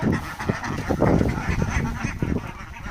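Ducks kept by a seventh-grade schoolgirl give several close, nasal honking quacks in a loose, uneven run, loud and unaccompanied by talk.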